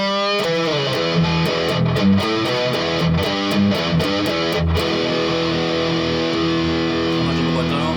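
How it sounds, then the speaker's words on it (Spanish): An ESP LTD EC-256 electric guitar in black satin with two humbuckers, played through heavy distortion: loud sustained chords and picked notes over about eight seconds, with no talking. "Vamos a ver cómo suena con distorsión."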